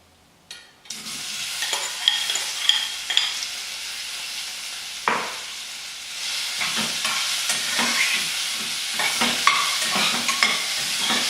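Beetroot pieces fry and sizzle in a pan with star anise powder, spices and a little jaggery, a steady close hiss broken by repeated scraping stirs and clinks, with no talking.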